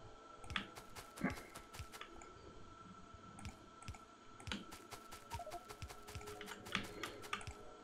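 Clicky typing on a computer keyboard during a Factorio game: irregular bursts of sharp key taps, close and fairly quiet, with a hum underneath and no voices.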